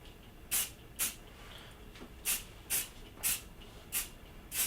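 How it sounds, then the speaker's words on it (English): Spray paint hisses onto a cosplay prop being weathered, in seven short bursts at an uneven rhythm, close and fairly quiet with soft rustling between them and no talk. "keep it, you know, like arm distance away and just spray on it"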